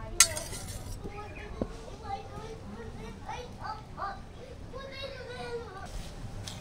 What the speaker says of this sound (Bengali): একটু চামচে করে নাড়াচাড়া করে দেব